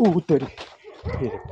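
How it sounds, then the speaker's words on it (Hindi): A dog barks outdoors at night in a reportedly haunted house, a few short close barks mixed in with a man's startled speech. "ये कुत्ता भौंक रहा है।"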